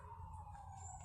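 Sirens wail at a distance somewhere in Moldova, a faint steady tone lingering under low street rumble, with no talk.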